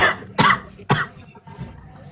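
Three sharp coughs come close and loud, spaced about half a second apart, followed by faint low rustling.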